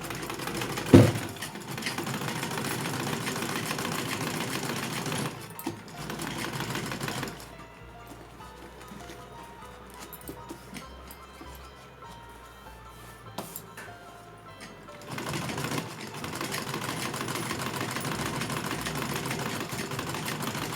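Sewing machine stitching cloth for a small summer dress for a Laddu Gopal idol, running in steady close bursts with a sharp click near the start and a quieter pause midway before the stitching resumes.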